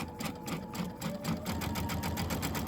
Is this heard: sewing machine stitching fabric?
yes